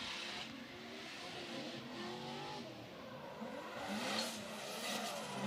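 Drift cars in a chase run at a drift competition, engines revving and tyres squealing from a distance, a continuous roar that swells toward the end.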